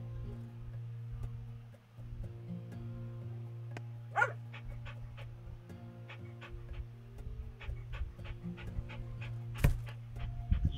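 Steady rhythmic dog panting from a stubborn little worker dog in House Flipper, close and continuous over a low game hum, with a few sharp clicks and knocks scattered through.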